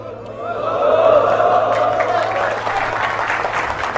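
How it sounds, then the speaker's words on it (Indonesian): An audience claps steadily for several seconds in a reverberant mosque, the applause building quickly and then holding at an even level. "Tepuk tangan dalam masjid dah boleh"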